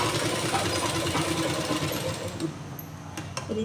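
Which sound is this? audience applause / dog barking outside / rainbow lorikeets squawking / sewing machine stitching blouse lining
sewing machine stitching blouse lining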